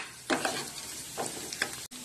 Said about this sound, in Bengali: এবার আমি সব আলুর সাথে এটা মিশিয়ে দিচ্ছি